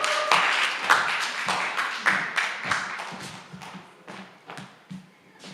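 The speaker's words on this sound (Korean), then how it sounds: "나오실 때 큰 박수 부탁드립니다." Applause from a church young adults' Sunday worship congregation, loud and close at first with distinct claps, then thinning into scattered sharp individual claps that fade toward the end.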